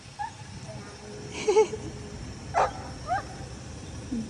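A dog whimpers and yips softly a few times at a short distance, the short cries rising in pitch, over quiet background noise.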